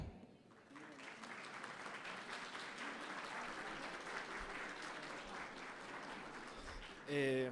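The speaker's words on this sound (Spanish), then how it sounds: "recibamos con un fuerte aplauso la conferencia Implementación BIM en Universidades, impartida por el arquitecto Pedro Herrera." An audience at a BIM forum in Guanajuato applauds a conference talk on BIM implementation in universities, giving a sustained, even wash of clapping that lasts about six seconds before a voice speaks at the end.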